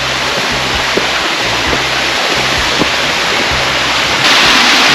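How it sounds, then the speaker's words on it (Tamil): A waterfall on the Isle of Skye roars in a steady, dense, close wash of falling water, loud and unbroken throughout, with faint low wind thumps underneath. "It's very beautiful falls."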